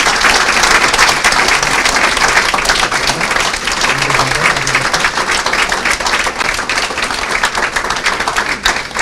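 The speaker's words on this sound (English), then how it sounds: "let's give a round of applause to our graduates one more time" An audience at a 2015 graduation ceremony gives the graduates loud, dense applause, a continuous wash of many hands clapping at once for about nine seconds, with no gaps.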